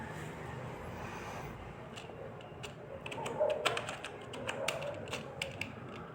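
Fingers type on a computer keyboard, a quiet run of quick, uneven key clicks that grows busier partway through, heard close in a room with a faint background hum.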